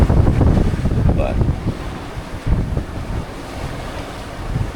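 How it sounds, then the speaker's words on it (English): Sailboat under sail on the open ocean between Kauai and Oahu, with steady broadband wind and surf wash, buffeting wind noise on the microphone, and swells of water rushing past the hull throughout. "I love sailing in oceans."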